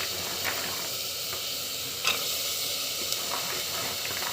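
Spices and masala sautéed in a pan give a faint, steady hiss and sizzle, with soft occasional stirring scrapes heard close by.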